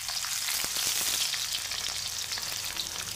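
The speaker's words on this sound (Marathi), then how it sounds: "आता याच्यामध्ये मी थोडा स्लाइस केलेला कांदा घालतो। चांगलं भाजायचं कांद्याला," Sliced onion fries in a hot pan for cashew pulao, a dense continuous sizzle with scattered pops and crackles, close and steady with no talking.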